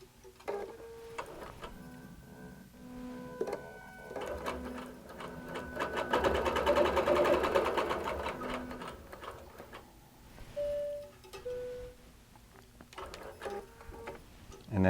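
A QBOT V3 robot-guided sewing machine stitches appliqué inner boundaries in a steady, close run of needle strokes, swelling louder mid-run before easing off, with a few short tones and clicks between.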